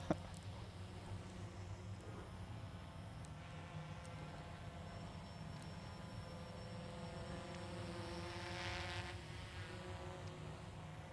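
Develop Air mini drone with its motors armed and props spinning, a steady high-pitched buzzing whine with shifting tones, faint and continuous throughout.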